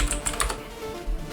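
A computer keyboard is tapped in a quick burst of a handful of keystrokes as a folder name is typed, the clicks close and crisp, with a quiet room behind.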